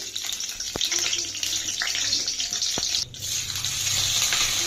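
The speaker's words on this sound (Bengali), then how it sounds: "তেলটা গরম হয়ে এলেই সেই তেলে আমরা ছেড়ে দিলাম তেজপাতা ও শুকনো লঙ্কা" Bay leaves and dried red chillies sizzle in hot mustard oil in a kadai, a continuous close crackling fry with occasional stirring clicks and no talking.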